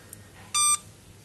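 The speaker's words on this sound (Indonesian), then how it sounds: "beep ya, itu artinya inverter ini sudah mulai menyala." A power inverter switching on gives a single short, clear electronic beep close by, against a faint steady hum.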